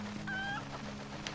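A golden chicken clucks once in The Legend of Zelda: Twilight Princess HD, a short, close bird call over a steady game background hum.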